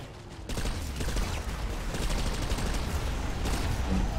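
Rapid automatic gunfire from an infantry weapon in the video game PlanetSide 2, played on PS4, with sustained dense bursts of shots starting after a brief quiet opening and continuing loudly to the end.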